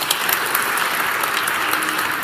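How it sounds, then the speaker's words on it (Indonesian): Congregation applauding during an Indonesian church sermon, steady loud clapping from a crowd of many hands, sustained and even throughout, with no voices over it. "Tepuk tangan saudara"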